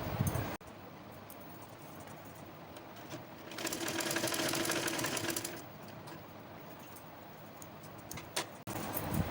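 A sewing machine stitches a dhoti salwar in fast, even bursts of mechanical chatter, close and fairly quiet, getting louder in the middle and stopping briefly at the start and end.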